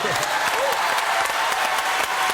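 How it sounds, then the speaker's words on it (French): An audience claps after a magic trick with glasses in a steady burst of applause, moderately loud, as a voice speaks briefly over it. "Voilà, applaudis."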